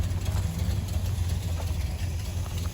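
A deep, rumbling V8 in a 1971 Dodge Charger Super Bee with its old stock exhaust idles steadily up close, with a lumpy low-pitched pulse and mild exhaust burble throughout.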